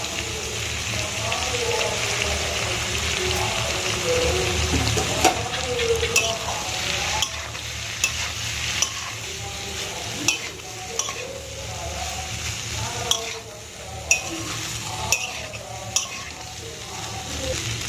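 Pasta tossed and stirred in a frying pan with egg and sautéed vegetables, a steady sizzle of frying under repeated scraping and clinking stirs, close by, with no one talking.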